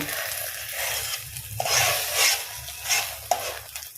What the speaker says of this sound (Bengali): লবণ দিয়ে আমি এটাকে ভালো করে ভেজে নেব।